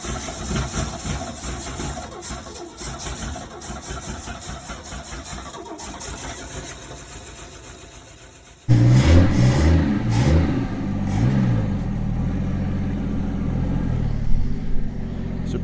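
A Ford Falcon ute's carburettor engine cranks and catches, then runs loud and close with a few revs rising over a rough idle.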